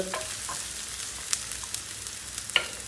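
Onions sautéing in a pan, a gentle continuous hiss of frying with occasional small crackles and light stirring clicks, soft and close, with no talk.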